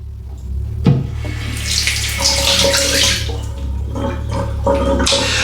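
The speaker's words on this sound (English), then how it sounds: "You do have to rinse this under running water." A shaving razor is rinsed under a running tap, with a steady close splash of water into a sink and brief clacks as the blade is knocked and moved through the stream, with no voices.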